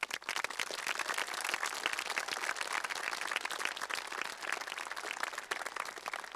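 A large crowd at a Parkersburg, West Virginia high school graduation gives sustained applause for the graduates' families, a dense, even wash of many hands clapping at a distance, continuous for several seconds.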